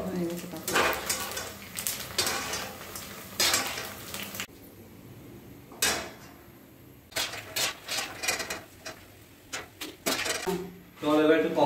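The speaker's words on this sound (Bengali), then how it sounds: "এখন তাহলে পাপড় ছাড়ছি" Papad slipped into hot oil for frying at a home meal, giving bursts of sizzling and clatter from pots and utensils while people talk over it in between.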